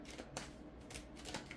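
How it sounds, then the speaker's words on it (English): A deck of playing cards being shuffled: quick, crisp riffling bursts that come in several separate pulses, close and fairly quiet, with no talking. "Can I shuffle the cards, please?"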